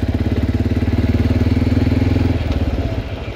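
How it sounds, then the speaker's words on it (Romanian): A small ATV engine runs steadily nearby with a throbbing, rapid idle that eases off slightly toward the end, loud and alone. "se aude prea tare motorul"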